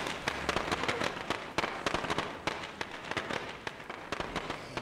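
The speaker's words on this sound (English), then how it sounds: "we're going to go ahead and throw us some fireworks" Fireworks thrown in the video game State of Decay go off as a fast, uneven run of crackling pops and sharp bangs. The bursts are fairly loud and sound with no voices over them.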